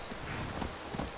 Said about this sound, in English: And it's raining, which is also oddly comforting.